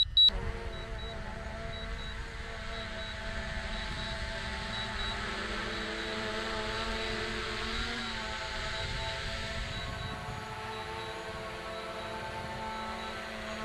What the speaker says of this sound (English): here's the drone flying across the field. It's flying right towards me and it'll land here in just a second.